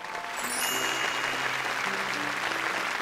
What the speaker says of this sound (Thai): ขอเสียงปรบมือเป็นกำลังใจกับสาวโสดของเราด้วยครับ